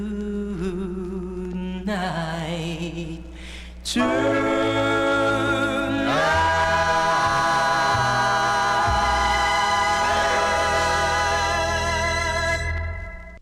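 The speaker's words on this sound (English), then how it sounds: "Kind of a little bit of a doo-woppy sound there." A 1960s or early 1970s soul 45 record with a doo-wop feel plays steadily, sustained harmonies and vocals over a bass line, fading out at the end.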